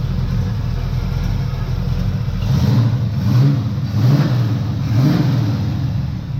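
An old Buick Skylark or Chevy Malibu engine runs at a rough idle close by after sitting parked, then revs up four times in a row, each rev rising and falling back.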